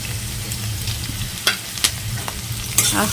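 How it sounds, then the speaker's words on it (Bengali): Chopped garlic and green chilli fry in hot oil, giving a steady sizzle with a few sharp clatters as a spatula stirs them around the pan, close up and without talking. "তো এইবারে আমি একটু ফার্স্টে রসুন কুচিটা দিয়ে দেব, কাঁচা লঙ্কাটাও দিয়ে দেব"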